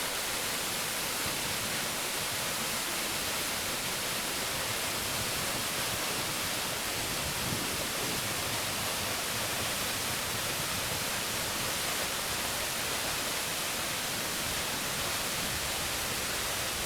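A waterfall at Rincon Falls, water tumbling down a hillside into a pool, heard as a constant, loud, broadband rushing roar with no pauses.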